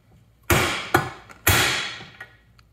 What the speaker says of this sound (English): Now we got a bigger hammer. Should go easier.